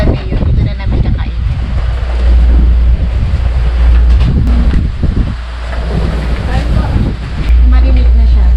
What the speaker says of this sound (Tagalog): May konting ambon lang, pero hangin rin ang mas malakas.